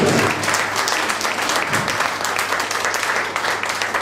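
An outdoor crowd at a Neapolitan song festival in San Felice a Cancello claps warmly, a loud steady spatter of applause lasting several seconds, with a low steady hum beneath it.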